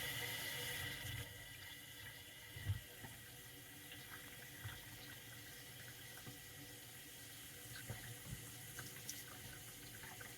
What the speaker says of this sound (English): now I'm going to turn the water on and see if it leaks